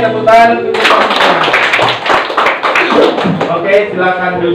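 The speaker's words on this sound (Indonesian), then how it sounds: "Oke, tepuk tangan untuk kita semua" A classroom of students claps together, a dense burst of hand clapping filling the room while a voice speaks over and around it, the crowd noise steady and close throughout.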